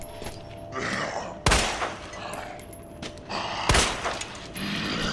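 Gunshots fired at zombies in Resident Evil 2, a few loud, sharp blasts spaced apart, each followed by ringing decay, with growls and game ambience between them.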